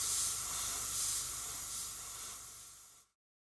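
An airbrush sprays paint onto the bottom of a model kettle, part of the stowage on a T-72M tank model kit. It gives a steady, close, airy hiss that fades slightly and then cuts off abruptly after about three seconds.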